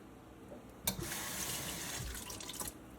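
Tap water gushes into a sink while vegetables are washed, a sudden close rush of running water that pours steadily for about two seconds and then cuts off.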